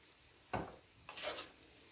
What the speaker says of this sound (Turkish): İyicene karıştırıyorum.